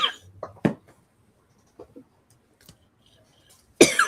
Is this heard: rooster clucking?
no